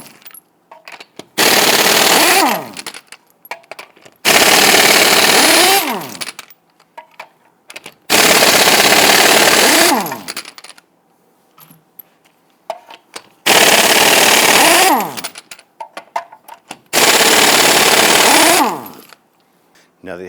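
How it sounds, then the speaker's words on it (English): Lug nuts on a 2000-2006 Toyota Tundra front wheel are spun off with a 21mm socket on an impact gun, five loud rattling bursts of about two seconds each, separated by quiet pauses. "Using a 21mm socket, let's loosen and remove our lug nuts."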